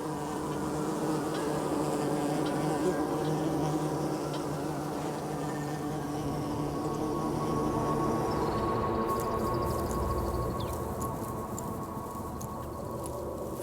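Steady, dense buzzing of Caupolicana bees, which nest underground, fills the scene continuously, with a faint high whine appearing near the end.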